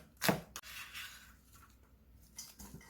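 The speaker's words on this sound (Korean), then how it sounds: "양파 작은 거 한 개 썰어줄게요" A knife slicing a small onion on a cutting board: a few sharp, quiet cuts, one crisp knock early, another soon after and a last pair near the end, separated by near-silence.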